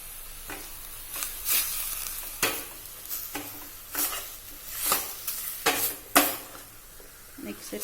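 Borsch soup ingredients are stirred in a pot on the stove. A spoon makes repeated scraping, clattering strokes at an uneven rhythm over a soft, steady sizzle, up close and without talk.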